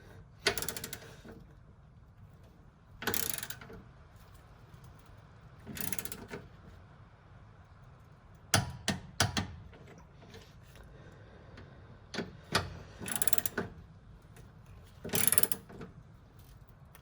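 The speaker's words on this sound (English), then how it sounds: "Now we're just going to torque it up, and then we're going to apply the clamps to stop it moving." A ratchet torques bolts on a Whiteline rear anti-roll bar fitted to a Mitsubishi Evo X, giving bursts of fast clicking at intervals with quiet pauses between pulls.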